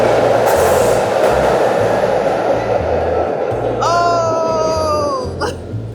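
Train rumbling through a Philadelphia station, a steady low roar with rhythmic wheel clatter throughout and a rising then falling metallic brake squeal near the end.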